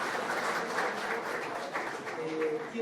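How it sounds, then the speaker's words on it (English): Audience applause for an invited guest at an AgTech startup demo day, steady clapping sustained for a few seconds at moderate loudness with some voices mixed in. "A round of applause for him,"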